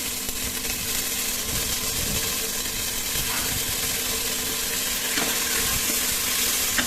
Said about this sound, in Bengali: আদা রসুনটাও পেঁয়াজের সাথে একটু বেজে নিব